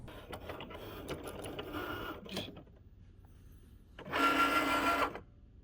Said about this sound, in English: I'm going to use this to test cut with my Cricut first before I actually cut my cover